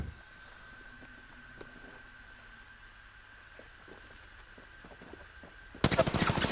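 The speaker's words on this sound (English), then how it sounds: "Shooting at me!" Gunfire in a video game: sparse faint shots under a steady hum, then a loud burst of rapid automatic fire in the final second.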